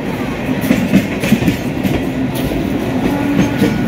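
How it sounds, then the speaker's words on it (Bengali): A train pulls out of a station, with its wagons rumbling and wheels clicking steadily over the rail joints. The sound is loud and close, with a few squeaks and thumps and no talk. "আমরা যে ট্রেনটা এসছে সেই ট্রেনটা কিন্তু সবে মাত্র এখনই ছাড়লো।"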